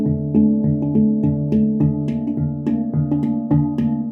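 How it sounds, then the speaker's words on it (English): Handpan playing a repeating groove: clear ringing metallic tones struck in a steady rhythmic loop with bright hand-tap accents, played alone and up close. "some of you might think this sounds a little bit similar to another very, very common handpan song"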